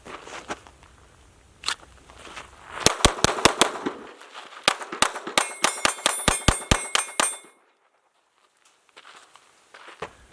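A .22 pistol fires shots at several targets, sharp loud cracks in quick irregular bursts with a faint metallic ring after some shots, then quiet with a few soft handling sounds.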